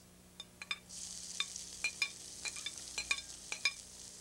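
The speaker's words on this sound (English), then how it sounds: "put a little bit of oil, about 1 tablespoon, and then we stir fry this barbecue pork" Barbecue pork is stir-fried in about a tablespoon of oil, with a steady sizzle that starts up and close, brisk clinks and scrapes of a utensil against the pan. It is quiet, and no one speaks.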